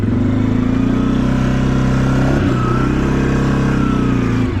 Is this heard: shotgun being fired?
no